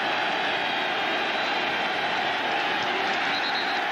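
Stadium crowd at a 2000 Miami vs Syracuse college football game, a steady, dense roar of many voices that holds evenly loud across the whole stretch with no break.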